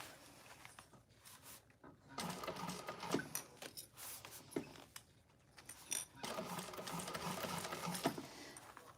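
A sewing machine stitches a handbag lining in quick bursts, its needle chattering in rapid runs separated by short pauses, close and fairly quiet, with no talk.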